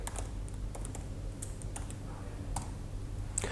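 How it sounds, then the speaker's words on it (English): Keys on a computer keyboard clatter as Arduino code for a 16x2 LCD screen is typed in, quick irregular clicks close by and fairly quiet, with no voices. "So I'm typing in the commands delay 1000 milliseconds"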